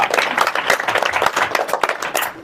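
Audience applause at a motivational speech by Bachan Singh: a dense, steady wash of many hands clapping throughout, fairly loud and continuous, with no voice over it.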